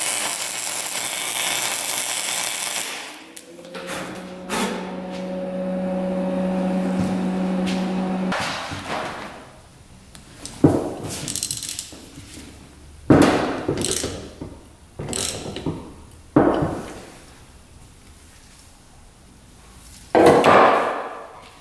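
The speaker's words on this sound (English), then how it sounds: "Then we can take a wrench and try to twist it off." A wrench works at a welded nut on a stud of a run-down quad, making spaced bursts of sharp metallic clanks and ratcheting clicks close by, after a steady mechanical hum at the start.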